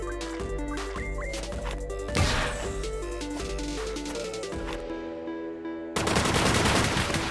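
Video game gunfire in Jack Move: rapid bursts of shots mixed with looping game music, ending in a loud, harsh burst.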